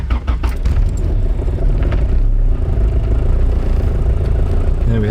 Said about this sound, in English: the first time I'm going to start the car with this new exhaust